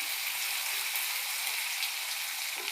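Garlic, ginger and pirandai sautéing in oil, a steady bright sizzle and crackle that holds at an even level from start to end with no voices.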